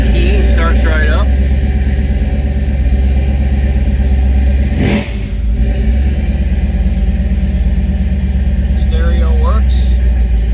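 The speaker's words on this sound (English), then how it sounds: "Hit the key, it starts right up." A 1951 GMC 3100 restomod pickup with Holley Sniper fuel injection rumbles at a steady, fairly loud idle after starting up on a cold morning, with someone talking over the engine.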